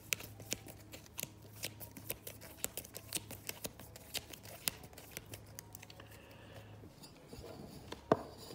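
Arkham Horror game cards being shuffled by hand, a steady run of light papery riffles and taps close by, fairly quiet, with a low hum underneath and one sharper snap near the end.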